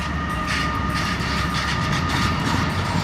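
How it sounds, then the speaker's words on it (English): A train zooms past close by with a continuous loud rumble and rattle of wagons on the rails. It fills the whole short stretch with steady roaring noise and no voices. "The downside is you have this train zooming by."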